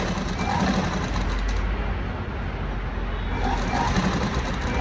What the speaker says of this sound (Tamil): ஸ்டிச் பண்ணலாம்